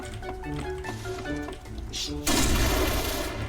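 Gunfire from a gun in a Point Blank video game on a Thai server, with a rapid burst crackling loudly near the end over background game music and a voice talking.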